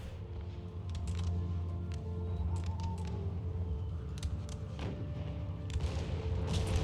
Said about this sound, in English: The Russians, oh, they managed to recrew an artillery piece. And I think they start firing on our general.